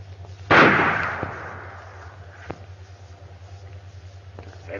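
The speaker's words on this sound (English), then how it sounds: "They've stopped firing." A single sharp gunshot cracks out in an old black-and-white western gunfight, loud and close, its echo fading over a second before a couple of faint pops follow against a steady low hum.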